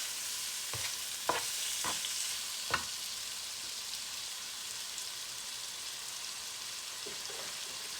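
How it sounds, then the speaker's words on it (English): Shrimp sizzle in a pan for shrimp fried rice, a steady broad frying hiss with a few sharp scrape and tap sounds early on, then an even crackle alone. "And then I'm gonna add the shrimp right in. I want to cook the halfway through first"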